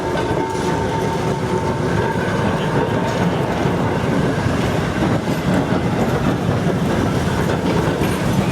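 Steam locomotive 1979 runs toward Sutherland in New South Wales, its loud, steady rolling rumble and rail clatter continuous and close throughout with no letup.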